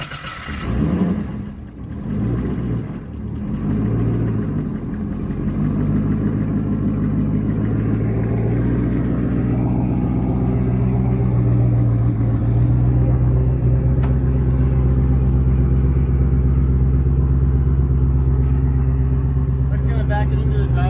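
A BMW E36 drift car with a 75mm-turbo LS V8 idles loud and lumpy, blips sharply a few times early on, then settles into a steady, heavy rumble close by, with voices heard over it.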